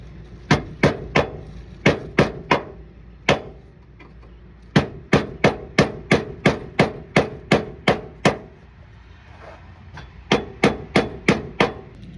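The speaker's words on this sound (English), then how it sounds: "I have a hammer and a screwdriver." A hammer strikes a screwdriver against a car bracket on a Project 240SX, sharp metallic blows coming in quick close bursts of several hits each, separated by short pauses.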